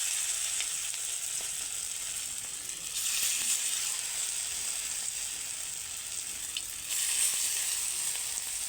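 Papaya pakoras fry in white oil in a wok, giving a steady close sizzle that swells twice as pieces are turned, with no talking.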